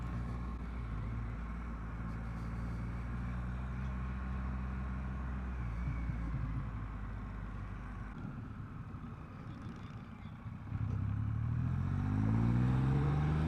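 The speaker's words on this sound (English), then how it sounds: "I'm blown away with the sound of this engine." A 2021 Triumph Rocket 3 motorcycle engine drones steadily at close range in rain mode, a deep constant rumble that swells louder and revs up near the end.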